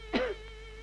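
A single short cough from a person in a 1934 film scene: one brief, fairly clear burst over a faint steady hum, then quiet.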